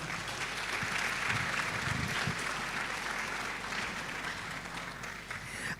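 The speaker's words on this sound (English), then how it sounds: "So please give him another round of applause." Sustained applause from a large audience at an afternoon session of a human rights moot court competition, a steady dense wash of clapping throughout, with faint voices mixed underneath.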